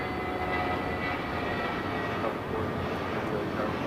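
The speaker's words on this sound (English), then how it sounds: "This is Air Premia 102 taking off to Seoul on a 787-9 Dreamliner" An Air Premia Boeing 787-9 Dreamliner takes off from LAX with a steady, distant broadband jet roar that holds constant throughout.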